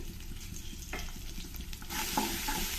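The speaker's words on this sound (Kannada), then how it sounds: "ಈರುಳ್ಳಿ ಸ್ವಲ್ಪ ಚೆನ್ನಾಗಿ ಫ್ರೈ ಆಗೋವರೆಗೂ ಇದನ್ನು ಸ್ವಲ್ಪ ಚೆನ್ನಾಗಿ ಮಿಕ್ಸ್ ಮಾಡ್ಕೊಳ್ತೀನಿ" Chopped onion, mustard seeds and curry leaves frying in hot oil for ridge gourd tovve, a soft steady sizzle with spoon stirring scrapes, growing louder and brighter near the end.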